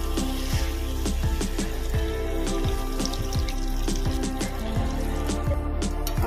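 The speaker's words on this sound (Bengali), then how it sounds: "এবার জল দিয়ে দেব।" Water is poured into a frying pan of taro curry with fried potatoes, giving a continuous bubbling, trickling pour over a busy sizzle from the hot oil, close and steady throughout.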